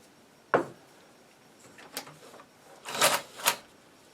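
The carriage of a Burroughs Class 1 adding machine, freshly lubricated with silicone spray, slides and clunks in several sharp mechanical knocks and rattles, with quiet gaps between them.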